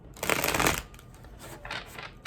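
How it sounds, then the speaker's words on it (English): A short riffle of tarot cards being shuffled, a crisp burst followed by a second quieter flutter and a final tap, close and faint. "Give me another shuffle for your energy."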